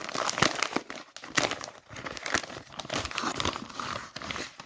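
A paper envelope from a mystery parcel crinkles and rustles up close as it is handled and opened, with continuous crackling and a few sharper tearing bursts, no talk over it.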